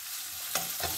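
Crushed shallots stir-fried in a pan over cumin seeds, a steady sizzling hiss with brief louder scrapes of stirring near the end, no voices.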